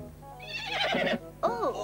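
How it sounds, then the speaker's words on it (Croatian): A cartoon donkey brays in two short loud bursts, a wavering cry broken by a brief gap, with no talk over it. "O, magarac."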